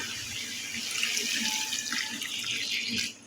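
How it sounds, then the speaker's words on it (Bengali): Water pours in a steady stream for a few seconds, splashing into a pan of fried stinging catfish, then cuts off. "এবার পরিমাণ মতন পানি দিয়ে দেব"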